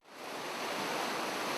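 Rough waves on the East Sea coast wash against the shore during a rock fishing trip, a steady, loud, broad rushing roar that swells in quickly and holds without break.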